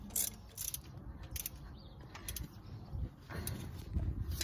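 A ratchet tightening a bolt on the thermostat housing of a leaky Volvo, giving a string of close, uneven mechanical clicks and scrapes with no talk.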